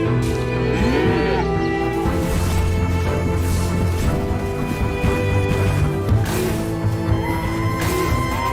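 Cows in an indie video game trailer moo repeatedly, long low calls layered over each other, loud and sustained with music and other sounds running underneath.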